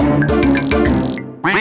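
A cartoon duck quacks loudly and close, a run of several nasal, buzzing quacks in quick succession with a short pause before a final one.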